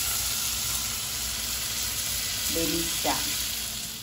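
Food fries and sizzles in a pan on a home stove, a steady close crackling hiss throughout, with a brief spoken word and some utensil clinks near the end.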